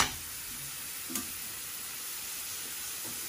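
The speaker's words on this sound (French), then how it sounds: "On va laisser saisir gentiment ici." A poultry ballotine sears in a hot pan with a soft, steady sizzle and a faint tick or clink partway through.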